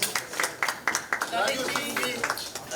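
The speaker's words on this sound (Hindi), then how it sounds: "जोरदार तालियां हो जाएं प्लीज" At an Urdu poetry album release event, scattered rhythmic hand claps from a few people come through at close range, under someone speaking over a microphone.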